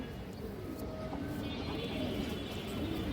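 Silver pigeon cooing in a loft, a low soft murmuring coo running steadily under faint background noise with no clear pauses.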